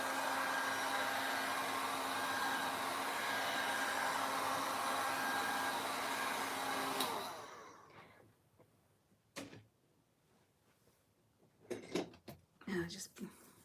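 A heating tool blows a steady, whooshing airflow over washi tape on a watercolour painting for about seven seconds, then shuts off and leaves quiet rustling and a few soft handling knocks.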